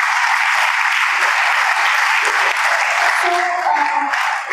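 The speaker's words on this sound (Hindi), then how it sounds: "एक बार जोरदार तालियां इनके लिए।" Loud, dense applause from a hall of students at a girls' high school in Navsari during a motivational speech, sustained clapping throughout with faint tonal voices briefly emerging near the end.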